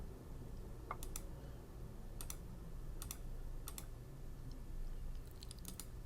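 Rapid mouse clicks made while adding points to a graph in Vensim software, sounding as small clustered ticks at intervals over a steady low hum, close and fairly faint, with no talking.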